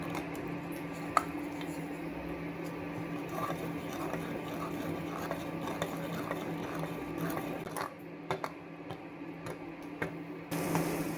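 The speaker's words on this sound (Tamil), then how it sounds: "மிக்சியில் அரைச்சி வச்ச கம்பை கொஞ்சம் கொஞ்சமாக போட்டு கிளறிக்கலாம்" Ground pearl millet being stirred into simmering water for kambu porridge in a pot, soft wet squelching and faint spoon taps over a low steady stove hum, close and quiet throughout.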